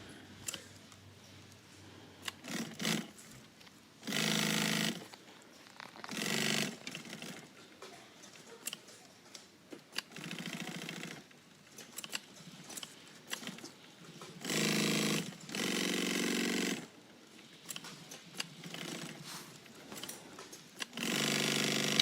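Sewing machine stitching a flap with back tacks, running in repeated bursts of steady motor whir and needle clatter, each a second or two long, separated by short pauses and small handling clicks.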